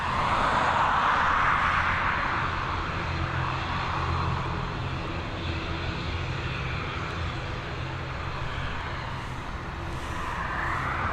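An airliner climbs away from Dublin Airport with a broad, steady jet roar that slowly fades a little as it gains distance, continuous and fairly loud with nobody speaking.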